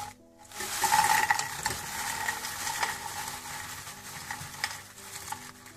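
Seasoned french fries being tossed and mixed, a steady rustling, scraping stir close by that runs continuously with faint sizzling texture, no talking.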